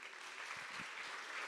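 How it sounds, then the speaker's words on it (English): Audience applauding steadily at a school athletics awards ceremony held by a booster club, a dense, even wash of clapping from a moderately distant crowd with no talking. "let's give Andy Walk and the Booster Club a round of applause"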